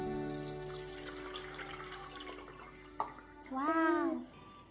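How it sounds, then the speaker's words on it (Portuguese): Water is poured into a small couscous steamer, a steady close splash under background tones, ending with a brief bright whistling sweep. "vamos adicionar água na cuscuzeira"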